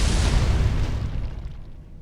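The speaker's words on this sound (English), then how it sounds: "You can stop shooting fire now, please." An enemy's fire attack in Metroid: Other M bursts out as a loud, broad roaring blast that holds for about a second before fading away over the next second, with no voices.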